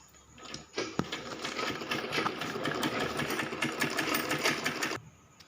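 A sewing machine runs steadily for about four seconds, stitching together the two shoulder seams of a child's frill frock, with a soft click at the start and a brief quiet stretch before and after.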